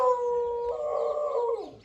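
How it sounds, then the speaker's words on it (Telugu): A single drawn-out howl from a dog, close and fairly loud, wavering slightly in pitch before fading out over about two seconds. "కుక్కలు కూడా ఉన్నాయి"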